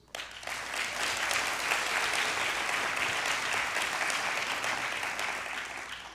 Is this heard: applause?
yes